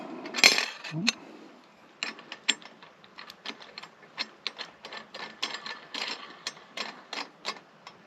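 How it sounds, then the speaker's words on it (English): A French press lid being screwed down outdoors at a camp stove, heard as a close, irregular run of small dry clicks and ratcheting ticks with a couple of louder knocks at the start, and no voices. "So what I'll do is I'll put my lid on, just like that."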